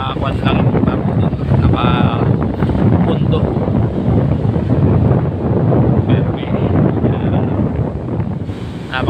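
Strong wind blowing by the sea with high waves, a loud continuous roar of gusts buffeting the microphone, with a person talking over it throughout.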